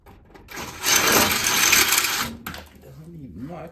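A metal bolt drops and clatters on a hard surface in a body shop, a burst of metallic rattling and rolling, with people talking afterward.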